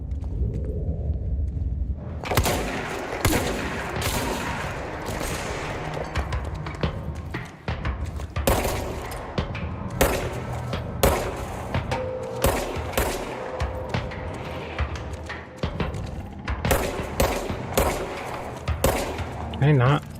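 Rapid bursts of gunfire from the video game Control, sharp repeated shots in clusters and sustained volleys ringing out loud and close, with someone talking between and over them.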